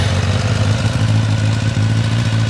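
A Kawasaki ZX10R motorcycle engine runs steadily up close with a loud, deep drone and a constant low throb, alone with no talk.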